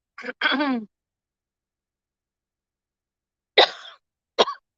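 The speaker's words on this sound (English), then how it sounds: "Sorry, I got a cough." A few harsh coughs close to the mic: a quick pair, a long silence, then two more short coughs.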